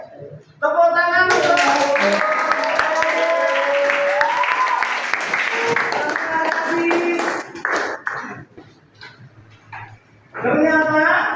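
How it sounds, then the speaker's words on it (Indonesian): A classroom of students claps together for several seconds while children's voices ring out over the clapping, followed by a short pause and a brief second burst. "Tepuk tangan."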